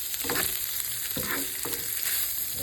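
Eggs fry in a pan with garlic and bamboo shoots, a steady close sizzle broken by a few scraping stirs of a utensil.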